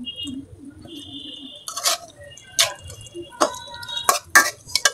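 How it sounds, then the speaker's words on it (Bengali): Rita fish being stirred and fried in a pan, with scattered clinks and scrapes of a utensil against the pan over a low sizzle, several sharp knocks near the end, no talk. "লাড়া দিয়ে দিলাম। মাছটা হালকা একটু কষায়াম।"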